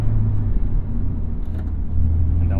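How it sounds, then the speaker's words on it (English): Car with a manual transmission held at a steady engine drone during a heel-toe double-clutch downshift from fifth into fourth, a low continuous rumble with a slight dip and rise in pitch, close and loud with no talk. "we're gonna heel toe double clutch down into fourth"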